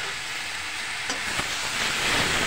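Chopped tomatoes fry in a hot pan with a loud, continuous sizzle, close and steady throughout, with a couple of faint clicks partway through.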